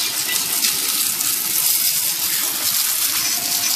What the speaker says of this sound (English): that's where I'm gonna use the high pressured water at